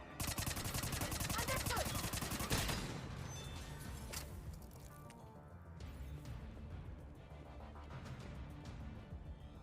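Turret gunfire in Mass Effect 3, a dense rapid burst of automatic shots that fades into scattered sharper impacts and combat noise, with a brief voice speaking over it.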